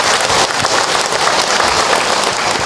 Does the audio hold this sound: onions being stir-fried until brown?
no